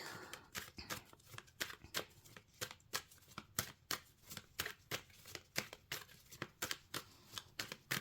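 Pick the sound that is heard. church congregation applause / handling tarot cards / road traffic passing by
handling tarot cards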